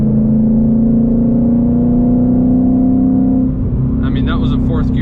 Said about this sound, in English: that was a 4th gear pull, but it was still like a decent amount of torque